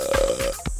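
Mountain bike tyre at about 25 PSI burping air as the rider lands a small jump at an angle, heard as a few short, thumping low bursts close by, with one sharp final pop and no talking.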